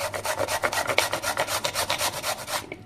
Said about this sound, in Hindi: गुड़ लेकर के हम इसको इस तरह से कद्दूकस कर लेते हैं।